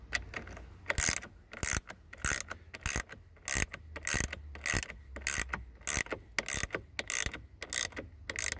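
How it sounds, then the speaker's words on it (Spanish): A hand ratchet tightens a car battery terminal clamp during battery post cleaning, giving a loud, close, rhythmic series of sharp clicking bursts, about a dozen evenly spaced strokes, heard alone. "apretamos con el dedo para que la matraca pueda apretar"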